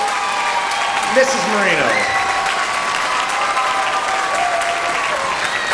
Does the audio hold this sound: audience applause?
yes